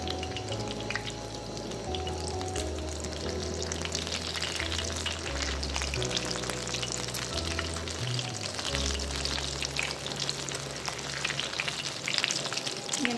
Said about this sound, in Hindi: अब मैं इनको अंडा लगा के फ्राई करूंगी